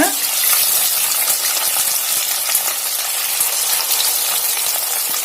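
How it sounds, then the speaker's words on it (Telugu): Fish pieces frying in hot oil in a pan, a steady bright sizzle and crackle with scattered pops, close and loud throughout. "దీన్ని కూడా మంచిగా ఎర్రగా వేయించుకుందామండి"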